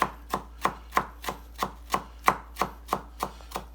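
A knife chops cilantro steadily on a cutting board, about a dozen even, crisp thuds in a regular rhythm, close and alone.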